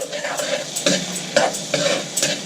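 Spoonful of garlic browning in melted butter in a pan, a steady sizzle broken by repeated bursts of stirring that scrape and crackle in an uneven rhythm, close and fairly loud, with no talking.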